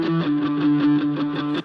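A heavily distorted electric guitar, played through only distortion and a noise gate, sustains a buzzing, harmonically rich chord with a pulsing rhythm, loud and alone, cutting off sharply at the end.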